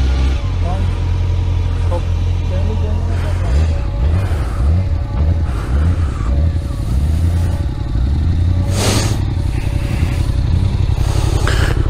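Motorcycle engines rev repeatedly during a group ride on the road, rising and falling whines loud and close, with people talking over the engine noise throughout.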